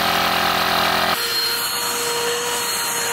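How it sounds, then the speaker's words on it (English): Air is pumped into a castor wheel tyre on a Magic Mobility Frontier V6 wheelchair, producing a loud, steady hiss and mechanical hum that shifts abruptly about a second in and then continues evenly. "All right, let's put some air in it."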